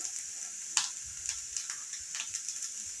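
Carrots sauté in a pan for carrot thuvaiyal, giving a steady bright sizzle with occasional sharp clicks of a spoon against the pan, close and moderately loud, with no voices.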